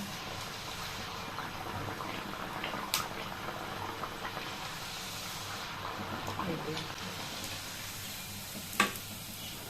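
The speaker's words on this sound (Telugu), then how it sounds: "1 నుంచి 2 నిమిషాల వరకు వీటిని డీప్ ఫ్రై చేసుకోండి." Masala rice pooris deep frying in hot oil, a steady broadband sizzle running throughout at moderate loudness, with a few brief sharper crackles and one pop near the end.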